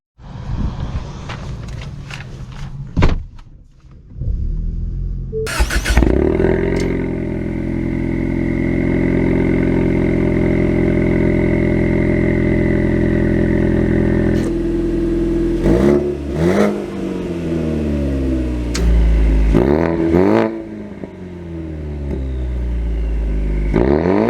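A 2023 Ford Mustang EcoBoost with an active valve performance exhaust starts up with a sharp bark, settles into a steady loud idle, then revs and pulls away through several gear changes, with a rising and falling exhaust note close by.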